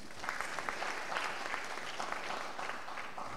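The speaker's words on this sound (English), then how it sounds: "I think every core member here should give themselves a round of applause." An audience of young corps members applauds at an orientation gathering in Nigeria, a sustained even patter of many hands clapping at moderate volume.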